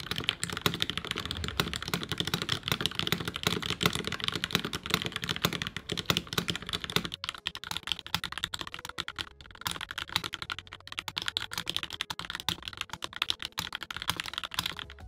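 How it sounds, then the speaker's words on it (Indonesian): Mechanical keyboard typed on over a deskmat, a fast continuous stream of close, soft clacking keystrokes with no talking, slightly sparser for a moment partway through. "Ini adalah contoh typing test yang pernah gue buat."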